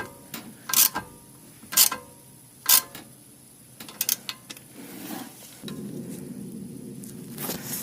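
Hand-tightening a wheel bearing nut on a Porsche 928: a few sharp metallic clicks and ratcheting rattles in short bursts, close up, followed by softer scraping.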